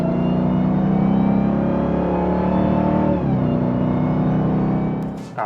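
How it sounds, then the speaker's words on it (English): A Dodge Durango Hellcat pulls hard under heavy throttle. Its loud, close engine note swells steadily with a high supercharger whine layered over the deep rumble, then eases near the end. "then you start hearing that supercharger whine, and it just sounds so nice"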